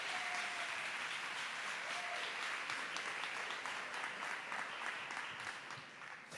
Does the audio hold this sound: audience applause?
yes